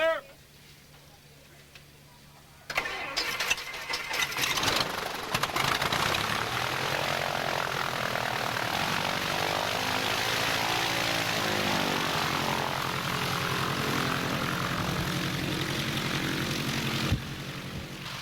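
A Stinson propeller airplane's engine cranks and starts, then settles into a loud, steady, close-up roar that holds for a long stretch before easing near the end. Voices are faintly heard under the engine.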